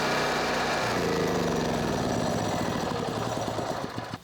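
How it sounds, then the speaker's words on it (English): A Firman tri-fuel generator runs steadily on natural gas, its engine drone loud and continuous with a slight lumpy pulse, easing off briefly at the very end. "let the generator start it, let it run for a minute or so"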